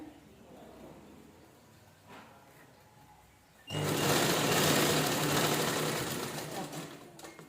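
A sewing machine starts partway through and runs loud and steady, stitching a folded edge of a square cloth piece after a quiet stretch of room noise.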